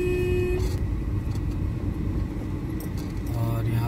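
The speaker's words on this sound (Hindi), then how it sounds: "और यहाँ पे गाड़ी निकल गई।" A car rumbles past at close range in a narrow, congested residential lane near Rudrapur, with a steady low engine and road rumble while a voice talks over it.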